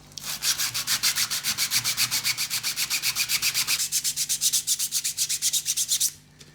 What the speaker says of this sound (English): Just get a bit of wooden stick there, and then you can sand the inside.